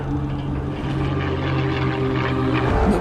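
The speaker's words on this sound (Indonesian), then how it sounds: "Namun pesawat Amerika datang dalam jumlah yang banyak." American military aircraft fly overhead, with a loud, steady propeller-engine drone that holds for about three seconds before easing off at the very end.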